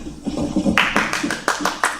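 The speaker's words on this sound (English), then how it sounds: "Roll for applause." Scattered hand claps from a small studio audience at a comedy cooking show, starting sparse beneath talk and then growing into a run of sharp, evenly spaced claps.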